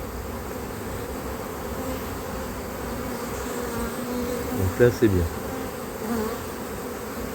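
Steady, dense buzzing of many newly emerged honeybees at a hive close by, continuous throughout, with a brief spoken remark near the middle.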